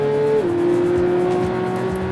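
Porsche GT3 engine revving on an open road, a steady high-pitched mechanical tone that shifts pitch once early and then holds, loud and continuous with some road and wind noise.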